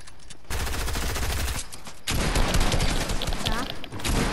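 Rapid bursts of video game gunfire crackle loudly and continuously through the round, dense volleys with a brief lull, while a player's excited voice talks over the action.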